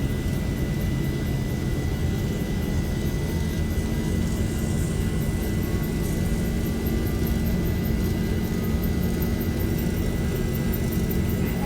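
Boeing 737-800 jet engines on the takeoff roll in the X-Plane flight simulator, Zibo mod: a steady, loud, continuous roar with a strong low rumble and a faint high whine, holding evenly throughout with no talk.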